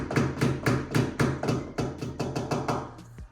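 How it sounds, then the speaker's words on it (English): A hammer gently taps a wooden plug into a hole during a wall-mounted handrail installation, about a dozen light, evenly spaced knocks, close and crisp. "Now let's just use the hammer gently, tap it in."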